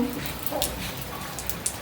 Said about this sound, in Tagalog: Papakita ko sa'yo ang ulan, ha?